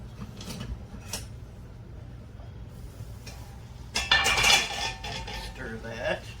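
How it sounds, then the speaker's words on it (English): Spoon scraping and clinking in a pot as cornstarch is stirred into cheese sauce for a California blend casserole, a steady low scrape under background noise, with a louder burst of clattering near the end. "tablespoons of cornstarch in here, and I'm going to stir that in"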